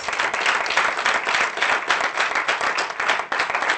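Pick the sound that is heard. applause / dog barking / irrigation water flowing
applause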